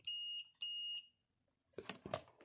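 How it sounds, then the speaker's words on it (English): A continuity tester gives two sharp, high electronic beeps as its test leads are tapped together, followed by a short silence and then faint rustling handling noise. "You can hear, that's continuity, that means it's working good."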